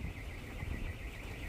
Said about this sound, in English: car alarm, it's been going on and off for the last 2 hours